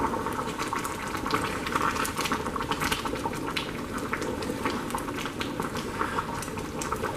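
A pot of Dominican-style white rice simmers on very low heat, its water bubbling in a continuous, close, moderately loud burble with small irregular pops and no voices.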